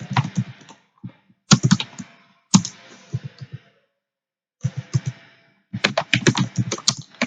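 Code being typed on a computer keyboard, close crisp key clicks in rapid bursts separated by short silent pauses.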